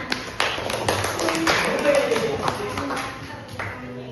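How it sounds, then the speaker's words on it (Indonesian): Classmates in a small-group teaching practice session clap hands together, a brief scattered burst of claps close by with a voice talking over part of it. "Tepuk tangan"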